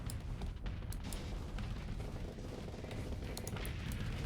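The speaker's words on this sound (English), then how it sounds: "We go ahead and fire some missiles over here." Missile fire from a ship in the space combat game Starsector, heard as a dense, steady roar of launches with a few sharp bursts over several seconds.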